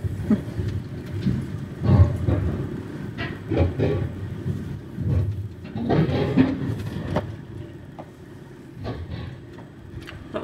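A train running through Europe, clattering and banging over the rails with irregular clanks and rumbles that swell and fade, fairly close and loud, with no talk.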